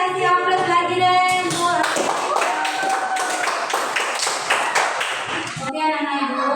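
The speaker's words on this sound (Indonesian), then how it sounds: "Boleh kasih aplaus lagi deh." A classroom audience of students claps together in a burst of applause lasting a few seconds, dense overlapping hand claps, with voices before and after.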